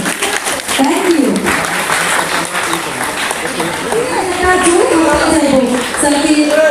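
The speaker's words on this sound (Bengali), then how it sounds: "Please give a big round of clap for him." An audience applauds an honoured guest at a company event, loud dense clapping that carries through the whole stretch while a voice talks over it.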